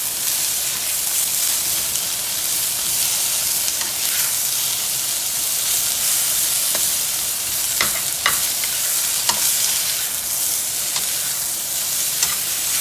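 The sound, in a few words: red snapper frying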